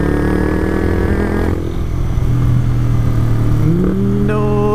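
A Honda CBR125R motorcycle engine on a first ride, steady and loud up close with wind rush, then its pitch climbing as it accelerates near the end.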